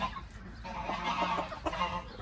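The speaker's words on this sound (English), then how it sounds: "In here are my Bantam Rhode Island Reds." Several bantam Rhode Island Red chickens cluck softly nearby in short, irregular bursts, with a few higher clucks mixed in over a quiet background.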